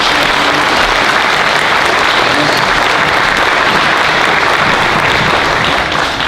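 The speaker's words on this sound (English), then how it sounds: "How about one more round of applause?" Audience in a school gym applauding after a fourth-grade performance at a Veterans Day assembly, steady dense clapping that stays loud and continuous throughout.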